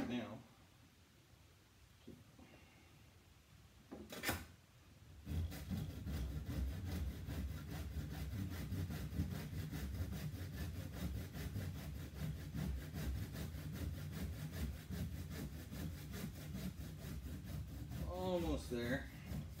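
Hand saw cutting through a figure skate blade clamped in a vise, a steady, close, rasping back-and-forth stroke that starts after a brief clatter and keeps going without a break, while a person talks over it.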